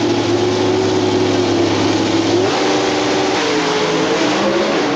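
Pro Stock drag racing car engines scream at very high RPM at a 1992 NHRA event, a loud continuous roar whose pitch shifts partway through, with no talk over it.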